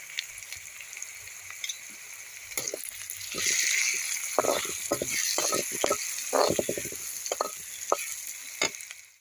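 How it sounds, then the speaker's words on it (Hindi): Gram flour being roasted with chopped onions in a pan, a steady sizzle and frying hiss with repeated scraping stir strokes, close and fairly loud, no talking. "इस बेसन को मैं 1 मिनट तक इसी प्याज के साथ भून लूँगी"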